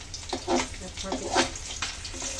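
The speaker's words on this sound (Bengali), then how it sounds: "ট্যাংরা মাছ একটা মাছ ট্যাংরা, তাই কিন্তু তেল ছিটে আমার গায়ে আসছে" Tangra fish frying in hot oil, with oil spitting out of the pan in short crackling bursts, close by, with a voice talking over the sizzle.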